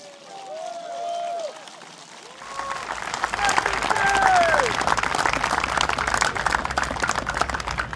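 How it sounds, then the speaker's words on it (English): Crowd at a Singapore Democratic Party election rally in Marsiling-Yew Tee breaking into loud, sustained applause and cheering after a short stretch of speech over a public address system, clapping dense and continuous to the end. "All of you in the crowd, can we once again give yourselves a round of applause, please, and cheers?"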